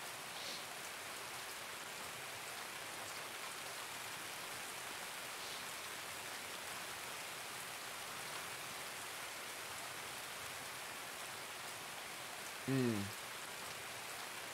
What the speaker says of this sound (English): Is the rain sound? Okay, we're good.